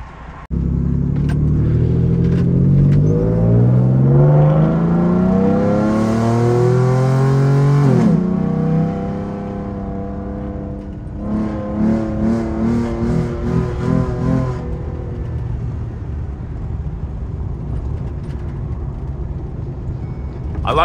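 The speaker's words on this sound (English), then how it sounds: "I love driving this truck in manual mode." A Ford F-150 pickup driven in manual mode revs hard through the gears, its engine pitch climbing and dropping with each shift, loud and close from inside the cab, then settling into a steadier rumble.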